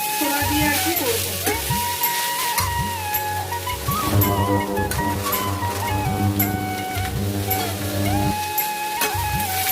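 Chickpeas frying in a pan give a steady sizzle mixed with a rhythmic mechanical hum and repeated scraping knocks, close by, with no clear talking over it.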